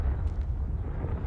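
Confringo explosive spell cast in the video game Hogwarts Legacy: a short, dense low rumbling blast that holds steady for just over a second, with no voices.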